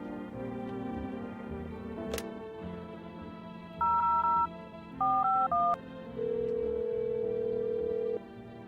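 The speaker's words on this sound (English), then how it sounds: "We're gonna try that phone number." A phone number is dialed with DTMF keypad tones, several short clear beeps in quick groups followed by a longer steady tone, heard over a low background hum with no talking.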